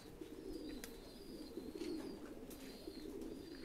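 Thai Titan pigeons coo softly in a breeding loft, low repeated throaty calls rolling on with a few faint higher chirps and light rustling in the background.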